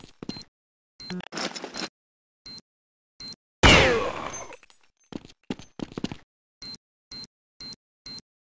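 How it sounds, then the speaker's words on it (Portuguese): C4 bomb planted in Counter-Strike 1.6 gives off short, evenly spaced electronic beeps, with scattered game clicks and a loud burst of noise partway through. "Eu ativei a bomba."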